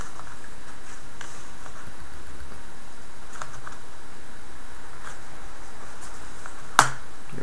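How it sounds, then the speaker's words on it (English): The keyboard of a Dell Latitude E6510 laptop is gently pried up, mostly quiet under steady background hiss with faint taps and then one sharp, close plastic snap near the end. "what you're going to do is just slightly lift the keyboard"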